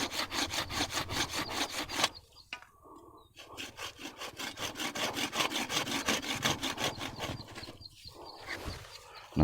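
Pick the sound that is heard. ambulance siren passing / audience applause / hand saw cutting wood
hand saw cutting wood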